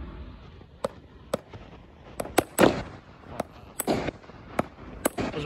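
An OutLaw Fireworks 'Do It For The Gram' 25-shot cake fires outdoors as a string of sharp, irregular pops and cracks, with several close together in the middle, above a steady crackling hiss.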